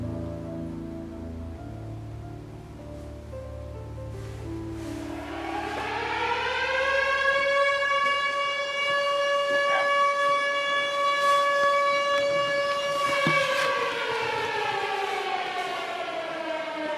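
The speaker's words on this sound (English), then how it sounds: "I've got to put the siren on." A siren is switched on inside an old aviation museum at night, winding up from a low growl to a loud sustained wailing tone that holds steady before starting to drop, over light hiss with no talking.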